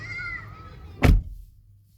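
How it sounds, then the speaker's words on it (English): A single solid thump of a Ford Flex car door shutting at close range, after sound deadener installation, cutting off a background hum that fades into near silence afterward. "Let's close the door and see what happens."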